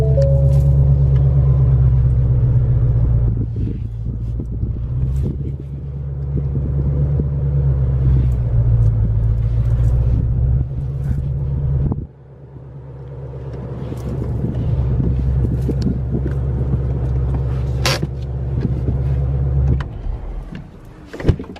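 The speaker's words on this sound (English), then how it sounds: "let me just pull the car in the garage" A Mercedes car engine rumbles steadily and close while the car is driven into a garage, with a brief dip partway through and a small knock at the very end.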